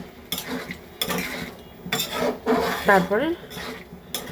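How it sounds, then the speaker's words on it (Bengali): Green peas being stirred in a pan for a low-oil, lightly spiced vegetarian ghugni, heard as a few rough scraping rubs spaced apart, with a voice speaking briefly over them. "এবার একটু নাড়াচাড়া করবো"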